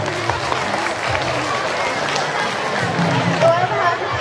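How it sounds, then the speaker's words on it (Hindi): A school audience at a farewell function claps after a dance performance, sustained dense applause from a crowd with background chatter mixed in, moderately loud throughout. "तो चलिए हम जोरदार उनके लिए एक बार फिर से तालियां बजा दें।"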